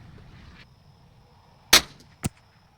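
Two sharp reports from a .22 LR rifle at a target range, a loud crack followed about half a second later by a second, softer one, over quiet background hiss.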